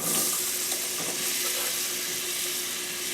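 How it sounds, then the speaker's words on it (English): Spices sizzling in hot oil at the start of a vegan potato and pea curry, a close, dense, continuous frying hiss with no voice over it. "So just let that sizzle a little bit."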